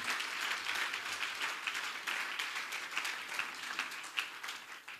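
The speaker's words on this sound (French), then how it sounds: "If you agree with me, clap for me." A sermon audience applauds steadily, a dense wash of many hands clapping at moderate loudness throughout with no pauses.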